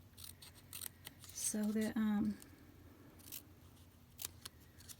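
Scissors trim paper strips for a ruffled paper embellishment, a few quick snips heard close up, with a person speaking briefly in between.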